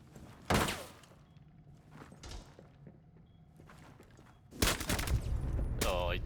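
Rapid gunfire empties a magazine in a Rainbow Six Siege X 1v1 match, loud sharp bursts early and again near the end, separated by quieter game noise and thumps.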